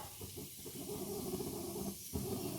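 Mustard seeds sizzle and pop in hot oil for tomato rasam, a steady close hiss with small crackles that pauses briefly and then returns.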